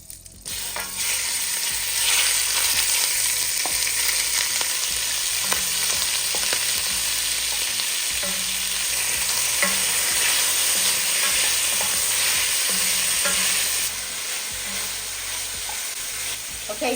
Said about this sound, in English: my beef is done browning